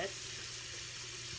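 Water running from a tap to wet a small facial sponge, a steady, soft hiss of flowing water at low volume, continuous and unbroken, with no talking over it.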